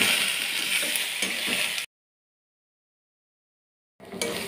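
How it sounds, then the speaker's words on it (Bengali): Ghetkochu leaves fried and stirred in a wok, a dense steady sizzle for nearly two seconds, then silence, then the sizzle resuming briefly at the end. "ঘাটকল পাতাটা ভালো করে ভেজে নেওয়া হয়ে গেছে, এবার কড়াই থেকে নামিয়ে ঢেলে নিয়েছি।"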